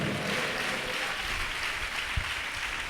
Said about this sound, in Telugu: చప్పట్లు కొట్టండి, సంతోషంగా సంతోషంగా చప్పట్లు కొట్టాలి